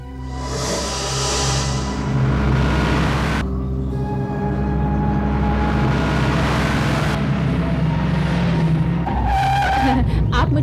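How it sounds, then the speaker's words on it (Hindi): A car speeds in with a loud engine roar and screeching, skidding tires in a Hindi action scene, the engine surging and dropping in bursts up close, with brief voices over the noise. "वो देखो, वो सामने एक गाड़ी आ रही है।"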